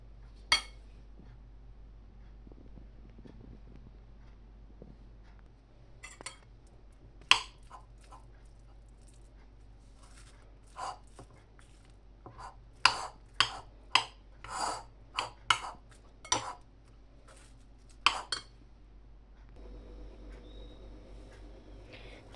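Cheese samosa stuffing being mixed in a bowl, with scattered soft clinks, scrapes and rubbing sounds that come in quick irregular clusters over a low steady background hum.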